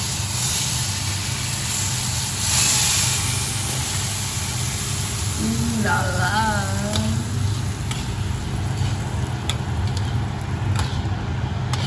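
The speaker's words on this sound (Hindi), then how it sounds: "लाल मिर्च डाल दी। जल्दी। ये आवाज़ मस्त लगती है।" Hot oil sizzling steadily as red chili goes in, a broad crackling hiss over a low background hum, with a brief voice partway through.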